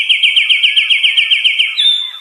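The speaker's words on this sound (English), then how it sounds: "This is a winter wren" A winter wren sings a loud, close, rapid series of high, evenly spaced trilled notes that ends in a brief higher-pitched flourish, with no other sound around it.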